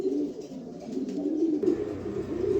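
White racer pigeons coo steadily in a low rolling murmur, several birds overlapping close by with no talk.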